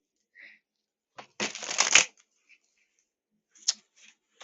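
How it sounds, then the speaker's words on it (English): A brisk riffle of tarot cards being shuffled close up, then a few scattered clicks and taps in near silence. "I shuffled my cards right side up"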